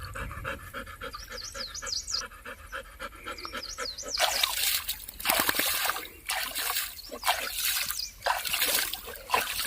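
Water splashing at a dam as a dog pants nearby, with trickling and splattering bursts growing louder and busier in the second half, under occasional bird chirps.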